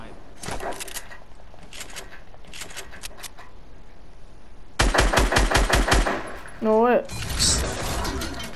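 Rapid automatic SMG bursts in a video game, several fast strings of shots with a loud close burst midway, mixed with other game effects and a player talking over parts of it.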